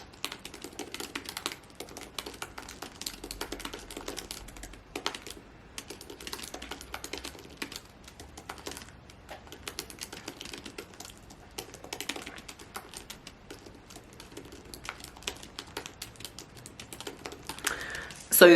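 Soft, irregular clicking of fingers typing on a computer keyboard, fairly quiet and close, in uneven bursts of keystrokes with short pauses throughout.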